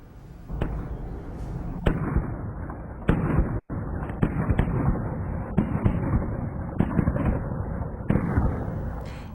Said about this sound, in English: You can hear several gunshots in this video.